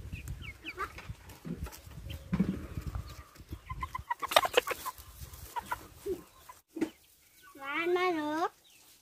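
Chickens in a chicken house cluck and squawk in scattered bursts, with a longer drawn-out call near the end, while people talk nearby over the birds.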